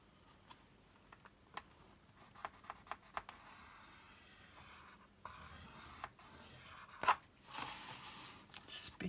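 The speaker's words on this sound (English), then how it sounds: "I'm going to fold, crease and fold those 3 sides there." Sheets of printed ephemera paper folded and creased by hand, three sides then along the bottom, giving soft rubbing swipes and short crisp taps spread across the stretch, quiet and close, ending in a louder crinkly rustle.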